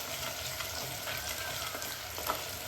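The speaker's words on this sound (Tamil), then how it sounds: "டக்கு டக்கு டக்குன்னு அப்படியே எண்ணெயில் பொரியிறாங்க. அப்படியே வெங்காயம் கருவேப்பிலையும் பொரியிட்டோம்." Onion and curry leaves fry in oil with a steady, dense crackle and hiss, close but fairly quiet, continuous and without talking.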